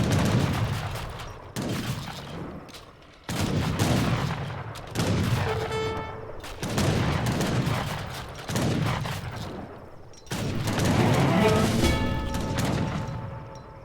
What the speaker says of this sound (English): Get absolutely sniped by those war wagons.